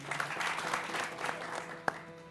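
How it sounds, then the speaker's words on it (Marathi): An audience at a Marathi kirtan claps together in a steady burst of applause, moderately loud and close, with one sharp louder clap near the end. "आईसाठी टाळ्या वाजव एकदा सर्वांच्या"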